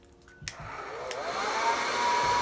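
A hair dryer blows on hair during a wash-day routine for 4c hair, switching on with a click and rising into a steady, loud, close whooshing hum that fills the rest of the clip.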